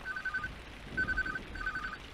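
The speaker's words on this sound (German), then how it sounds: "Und wir gehen erstmal dieses nervige Telefon" A telephone rings in the horror video game TAPE Unveil the Memories, three short electronic trilling rings with brief gaps between them, faint and alone over a quiet background.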